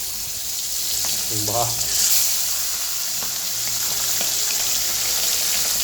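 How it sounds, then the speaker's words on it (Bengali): Pomfret fish frying in hot oil in a pan gives a steady, close sizzling hiss throughout, with a brief voice speaking early on. "পমফ্রেট মাছটা ভাজা বসানো হলো।"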